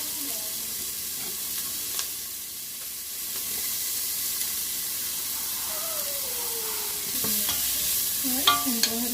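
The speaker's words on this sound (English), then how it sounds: "saute this together until brown before adding the seasoning" Onions and garlic sauté in a pan for Brazilian coxinha, giving a steady soft sizzle and hiss with occasional stirring clinks and scrapes close by, and no talk.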